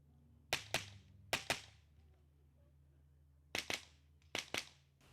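Sharp rifle shots fired in quick pairs at a mini rifle shooting competition, sounding moderately distant over a steady low background hum, with four double-shot groups spaced across the stretch.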